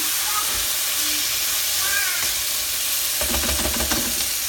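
Food sizzles and simmers in a pan on high heat as a mixture cooks together, with a steady hiss and a few stirring scrapes and clatters toward the end.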